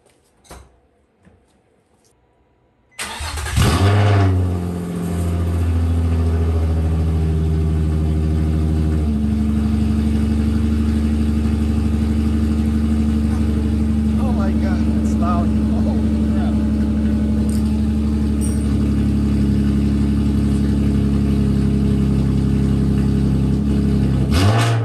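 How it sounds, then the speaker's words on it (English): A car with its Tomei muffler removed sits silent, then cranks and fires on a cold start. It settles into a loud, raw, unmuffled idle that holds close and steady, with a few rises in revs. "Cold start."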